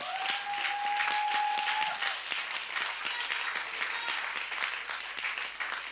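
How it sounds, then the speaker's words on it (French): A church congregation applauds, dense steady clapping filling the room for several seconds at moderate volume, with a brief tone heard at the start. "On acclame le Seigneur Jésus."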